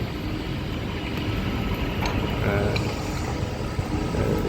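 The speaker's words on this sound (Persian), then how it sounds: "این موتور بلند میکنه" A heavy machine at a stone-cutting yard working its engine while lifting a 30-ton block of stone, a continuous dense low rumble with faint mechanical clanks, steady throughout with a voice talking under it.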